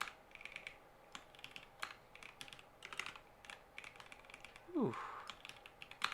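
Typing on a computer keyboard while working through a coding exercise comes in quick, irregular bursts of close, soft clicks. A brief murmured exclamation rises partway through.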